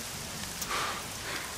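Steady rain falls during an outdoor scene, a continuous broadband hiss of drops with no pauses, fairly soft and even throughout.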